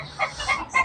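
Several chickens cluck noisily close by in short, busy bursts, three or so rising clucks over a steady low background hum, with no talk.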